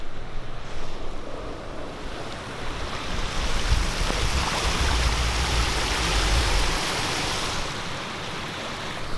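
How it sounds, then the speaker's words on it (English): Floodwater rushing through a flooded alley beside an office in Atlanta, a steady broad roar of flowing water with wind buffeting, no voices. "This water is insane. It's flooded the alley"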